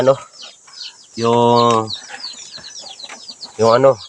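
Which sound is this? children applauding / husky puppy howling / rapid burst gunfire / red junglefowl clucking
red junglefowl clucking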